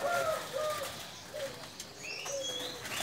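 Champion doves in breeding cages coo in short, soft calls repeated at intervals, with some chirps and a brief flutter of wings against steady background noise.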